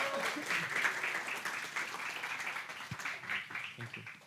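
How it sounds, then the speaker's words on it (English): Steady applause from an audience at a morning community gathering at Sunway University, PJ, a dense wash of clapping that holds at an even level for several seconds without letting up. "please give me a round of applause"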